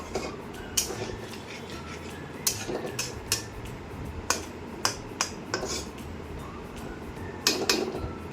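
Cauliflower curry with water just added, stirred in a pan with a spoon: a string of sharp clicks and scrapes against the metal, sparse and irregular, set over a steady low hum of background noise.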